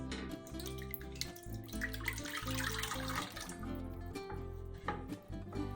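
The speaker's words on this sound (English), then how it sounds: "I'm going to add to this now my pineapple juice and milk." Pineapple juice and milk pouring into a mixing bowl of dry ingredients for Hawaiian bread, a soft, continuous liquid stream and trickle at close range over faint kitchen background, without speech.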